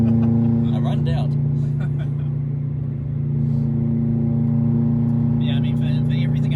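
Subaru WRX STI Type RA rally replica engine droning steadily at high revs in top gear, heard close from inside the car, with brief talk over the continuous hum.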